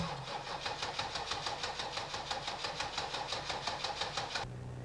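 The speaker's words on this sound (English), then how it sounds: "Loosen the line coming from the pump that goes to the fuel filter and crank the engine." A 1984 Chevrolet diesel engine cranks over on the starter, a fast, even, rhythmic chugging held steadily for several seconds before stopping, close and fairly loud with no talk.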